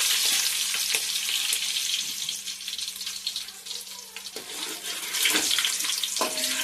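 Spice tempering crackles and sizzles in a hot pan for a village-style jackfruit curry, a steady close frying hiss with occasional sharp pops and faint clinks.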